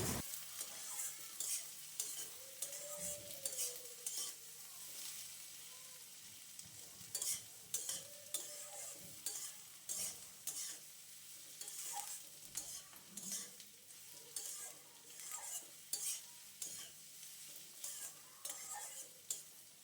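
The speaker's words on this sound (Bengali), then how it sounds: "পেঁয়াজ মরিচ লবণ সব ধরনের মশলা দিয়ে আপনারা কষিয়ে নেবেন" Onion, chili, salt and spices are stir-fried in oil with bay leaf for an egg and eggplant curry, rhythmic scraping strokes of a spatula over a quiet sizzle, with occasional metallic clinks.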